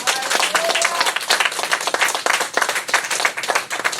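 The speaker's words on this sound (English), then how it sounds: "Give Jesus a clap offering now." A church congregation at a Sunday service claps and applauds together, a dense, loud burst of many hands with sharp individual claps standing out across the whole stretch.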